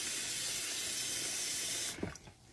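Water pours into a pan for washing and dyeing wool locks, a steady hissing rush that cuts off abruptly near the end, leaving a few faint splashes and drips.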